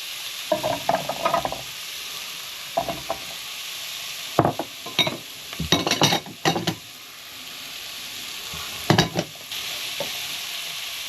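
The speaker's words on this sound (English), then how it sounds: "Now I'm going to throw the mushrooms in as well. I'm just going to get stirred in here." Mushrooms and carrots are stirred into a frying pan for lamb shanks in red wine gravy, giving several bursts of scraping and clattering stirring over a steady sizzle, with quiet pauses between.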